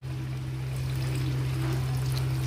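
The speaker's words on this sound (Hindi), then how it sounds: "मैंने 1 गिलास पानी डाला है।" A glass of water is poured into a pan of soya chaap curry, giving a steady, close rushing pour over a low kitchen hum.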